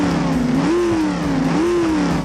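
A Junker car from the Half-Life 2 mod for the BeamNG driving game revs its engine: a loud, steady, close motor drone whose pitch rises and falls in two swells, with no talk.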